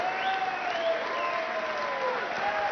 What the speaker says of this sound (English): A round of applause for Mark Wilson